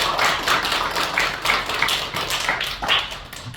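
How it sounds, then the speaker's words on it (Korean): Church congregation at a Korean Sunday worship service clapping together in a brisk, even rhythm of sharp hand claps for a few seconds, close and fairly loud, with no talking. "오늘 우리 이렇게 참여하신 분들께 다시 한번 박수 한번 올려드리겠습니다"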